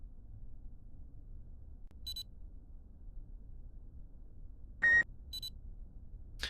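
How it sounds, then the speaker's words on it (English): A few short electronic beeps from a Kerbal Space Program mod, one near the start and a brighter pair near the end, faint over a low background hum. "Those little beeps and voices you hear randomly are one of my mods"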